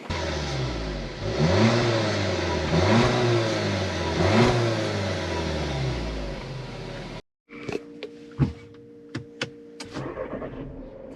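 2019 Volkswagen Alltrack SEL Premium engine revving repeatedly, rising and falling in pitch for about seven seconds, then cutting out abruptly and followed by scattered clicks and thumps.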